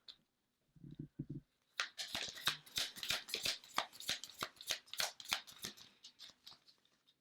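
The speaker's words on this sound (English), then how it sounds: "I just started shuffling" Tarot cards being shuffled by hand, a few soft riffles near the start followed by a long, steady run of crisp, rapid card flutters and snaps at close range, with no talking.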